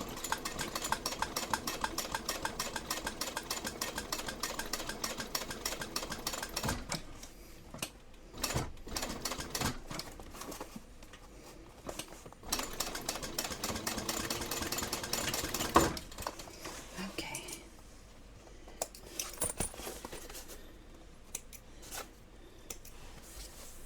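Home sewing machine stitching a fabric onigiri backpack, going back over a short section of a seam near its binding, running in bursts of fast mechanical whirring with brief pauses, close and fairly quiet.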